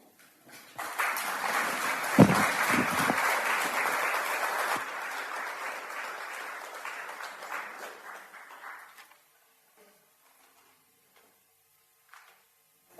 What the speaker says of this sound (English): another round of applause to all the readers that have read so far